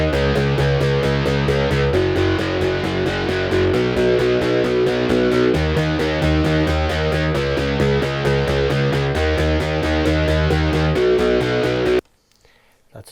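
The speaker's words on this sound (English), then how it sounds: "that's a synth bass with a lot of distortion" A thick, gritty synth bass with heavy distortion pulses in a steady repeating pattern, loud and dense, then cuts off abruptly near the end.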